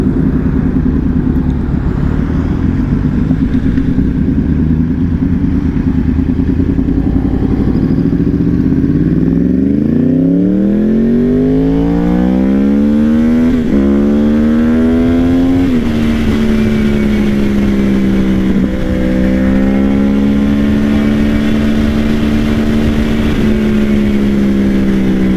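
Yamaha R1 motorcycle riding among other bikes, its engine droning close and loud, then revving up through rising pitch sweeps and settling into a steady cruising hum.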